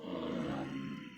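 Several wild creatures in the Vintage Story video game, including drifters, wolves and bears, growl and roar together. The low, continuous rumbling sounds fairly faint and overlapping, with no talk.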